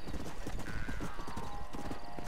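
Horse hooves clip-clop in a fast, steady galloping rhythm during a race in the video game Red Dead Redemption, over a dense, busy background, continuous throughout.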